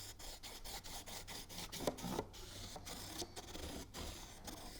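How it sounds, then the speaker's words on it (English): A wooden dowel rubs along the folded paper edges of a papercraft tissue topper, making soft, faint scraping and rubbing strokes in uneven short passes, close by and quiet. "grab a dowel, just kind of run that around the perimeter right up to the edge."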